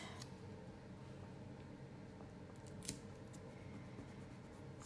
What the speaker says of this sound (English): I'll trim off any excess that's hanging above or below that piece of cardstock